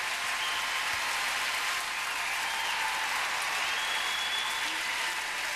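Arena audience applauding a figure skating pair at a world championship, a steady wash of clapping, fairly distant and even throughout, with no talk.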